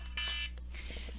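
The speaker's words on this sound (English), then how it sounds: "Excuse me, that's my alarm." A phone alarm chimes briefly in a quiet room, a faint electronic tone lasting about a second.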